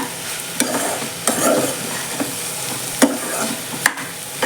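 Bitter gourd sautéing for pavakkai poriyal sizzles steadily in a pan, loud and close, broken every second or so by sharp scrapes and knocks of a stirring spoon; no voices.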